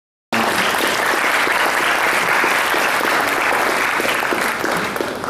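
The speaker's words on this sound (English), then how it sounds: "But please give a big round of applause for our call." Sustained applause from a large audience at a corporate gathering, loud and dense throughout with steady clapping and no break after a brief silent start.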